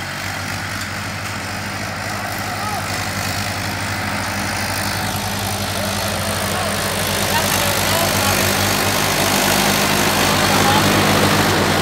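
A tractor engine idles steadily nearby, a loud continuous low chugging drone that swells slightly louder toward the end.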